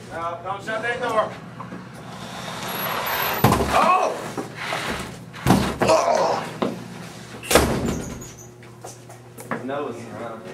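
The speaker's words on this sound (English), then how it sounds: "Don't shut that door." A door being shut inside a band's studio, several loud thumps and slams among close, talkative voices.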